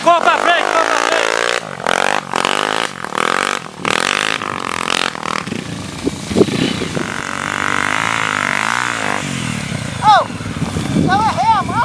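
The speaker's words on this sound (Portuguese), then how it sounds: "Ah, é outra moto, né?" A trail motorcycle revs and passes nearby on a dirt trail, its engine rising and falling loudly amid other engine noise, with a person talking over it.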